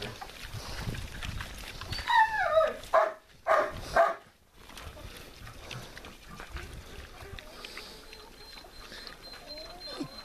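Vietnamese pot-bellied sows squealing in a farmyard, a few sharp high cries bunched together over steady background noise, fairly close.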